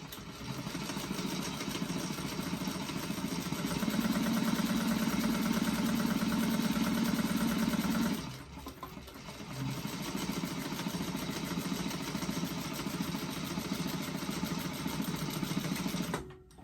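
A sewing machine runs steadily, stitching the lining of a doctor bag with a short stitch length and backstitching, a close continuous motor whir that stops briefly midway and then resumes.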